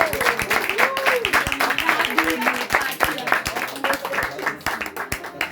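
A church congregation claps along under voices and tonal, sung-like speech, with sharp hand claps scattered throughout.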